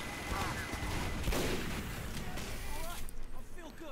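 Gunfire in a Team Fortress 2 match: a sharp sniper rifle crack near the middle stands out among scattered distant shots and explosions, with commentary voices talking over the action.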